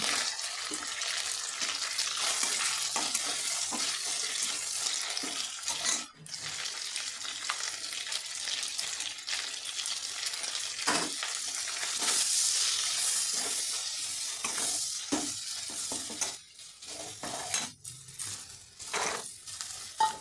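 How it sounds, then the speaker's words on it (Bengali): Cumin powder and garam masala being stir-fried in a pan while cooking khichuri, a steady close sizzle with scraping stirs and occasional brief breaks running through the whole stretch. "জিরের গুঁড়ো গরম মশলা সব দিয়ে কষিয়ে নিচ্ছি"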